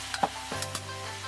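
Fish head hitting a hot wok with aromatics and soybean paste, a steady sizzle with a few short clattering stirs and scrapes, close and without talk.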